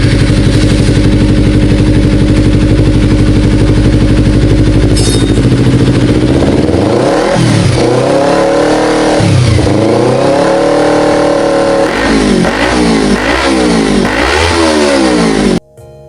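Kawasaki Z250 motorcycle, a 250 cc liquid-cooled parallel twin with DOHC and 8 valves: a loud, close idle that rises into several sweeping revs, then a series of quick, sharp throttle blips before cutting off abruptly.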